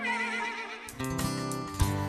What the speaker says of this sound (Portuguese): Ele relincha, bate as patas, deita sobre o caixão e acompanha todo o cortejo.